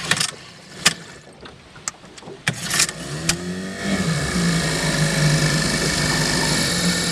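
A 1949 Martin Fisherman "40" 4-horsepower outboard motor drones steadily and close, its pitch wavering, after a few sharp knocks and clanks at the start.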